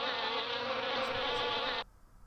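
Buzzing of a swarm of bees from a 90s–2000s edutainment game: a dense, loud, steady drone that runs unbroken for nearly two seconds and then cuts off abruptly, leaving near silence.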